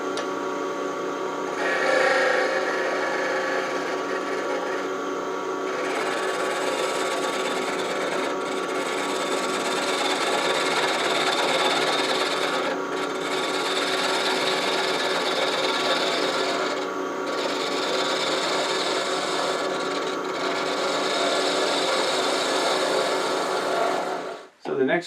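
A skew chisel shears along a spinning wooden bedpost finial on a lathe, a continuous raspy scraping hiss with the motor hum beneath, holding steady for most of the stretch before cutting off abruptly near the end.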